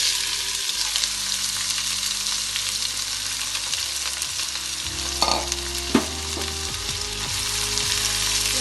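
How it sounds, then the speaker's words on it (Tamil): Onions sizzle and fry in hot oil in a pan while cooking turkey biryani, a steady loud crackling hiss with a few stirring clatters partway through. "அது பொரிஞ்ச உடனே கொஞ்சம் வெங்காயத்தை போட்டுக்குவோம்"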